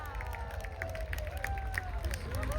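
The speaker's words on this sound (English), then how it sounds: "Let's give the Synchro pair and Red 8 a massive round of applause" Crowd applause and cheering at the Ayr air show for the Red Arrows Synchro pair and Red 8, steady rippling clapping over a low rumble with a jet tone sweeping through.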